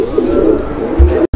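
Black Beauty Homer pigeons coo in a steady, throaty rumble close by, with a sharp brief cutout near the end and no one talking.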